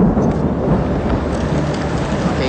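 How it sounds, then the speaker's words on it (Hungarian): Heavy rain and rumbling thunder closing in over a high construction site some 200 metres up, a dense, loud, steady roar that fills the whole clip with no voices. "Jön az eső, fiúk."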